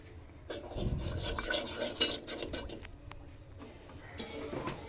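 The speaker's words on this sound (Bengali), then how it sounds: "আমার এইভাবে আস্তে আস্তে নাড়তেই হবে, অনেকক্ষণ নাড়তে হবে যেন কাঁচা গন্ধটা না থাকে" A spoon slowly stirring flour in soybean oil for a white sauce in a pan, giving a steady scraping and rubbing texture that runs throughout at moderate closeness with no talk.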